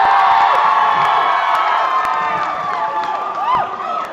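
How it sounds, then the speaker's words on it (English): A live studio crowd at a Lao dating show cheers and whoops loudly and continuously, with excited shrieks and shouts rising above the roar throughout. "both of you heard the crowd"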